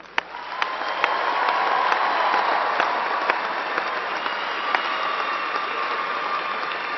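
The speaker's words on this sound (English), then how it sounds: "Please join me in a round of applause for our new ASU alumni." Audience applause at a fall university commencement ceremony at Angelo State University, greeting new alumni: a large crowd claps steadily and evenly for several seconds, with a few sharper individual claps standing out over the broad wash.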